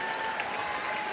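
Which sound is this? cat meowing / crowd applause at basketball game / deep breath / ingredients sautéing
crowd applause at basketball game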